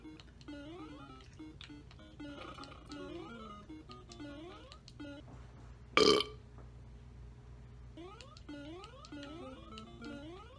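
A single loud, abrupt burp bursts out midway while the bouncing chiptune music and jump sounds of the Super Mario stage 4-2 video game play steadily in the background.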